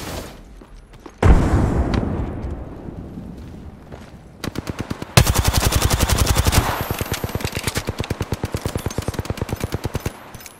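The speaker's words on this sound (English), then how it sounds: "Throwing frag." In a first-person shooter game, a frag grenade detonates with a heavy boom, followed by long, rapid bursts of automatic gunfire that grow louder and dominate the rest of the stretch.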